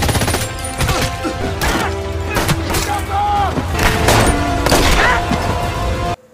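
Dense World War 2 film battle gunfire, with loud, repeated gunshots and booms cracking in quick bursts over shouting and battle noise, ending abruptly.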